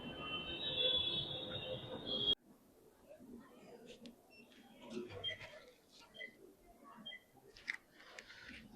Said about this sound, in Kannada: ಟಿನ್ ಫ್ಯಾಕ್ಟ್ರಿಯಲ್ಲಿ ಮೆಟ್ರೋ ಬಂತು